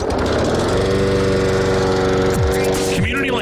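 A lawn mower engine runs in a landscaping radio ad, a loud steady motor drone that holds throughout, with a short revving sweep near the end.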